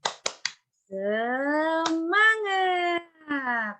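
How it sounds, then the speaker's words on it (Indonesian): A group performing the rhythmic 'tepuk semangat' clapping chant gives three quick, sharp claps, then a voice carries a long, drawn-out sung chant with brief claps breaking through. "sekarang kita tepuk semangat dulu ya"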